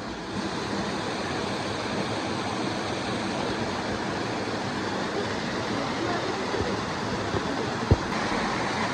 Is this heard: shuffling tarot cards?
no